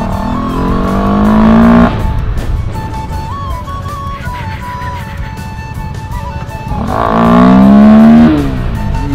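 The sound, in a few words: motorbike engine revving after air filter change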